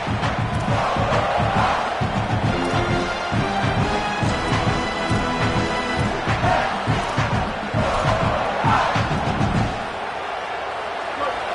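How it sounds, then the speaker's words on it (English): A packed football stadium crowd roars and chants loudly and continuously as a team pushes toward the red zone, with rhythmic thumping and dense cheering under a commentator's voice, easing slightly near the end. "This crowd going to try to make life miserable for these guys."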